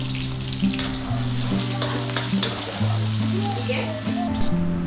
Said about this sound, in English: heat the kadai, adding some ghee and oil. Adding chopped green chilies, some curry leaves